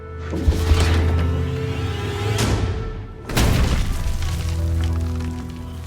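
Two heavy trebuchet impacts strike stone castle walls in Age of Empires IV, each a loud booming crash with a crumbling tail, the second landing about three seconds after the first over a low rumbling backdrop.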